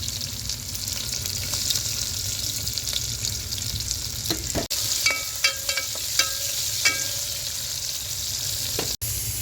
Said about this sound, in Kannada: ಎಣ್ಣೆ ಕಾದದೆ. ನನಗೆ ಈರುಳ್ಳಿ ಹಾಕ್ತಾಯಿದ್ದೀನಿ.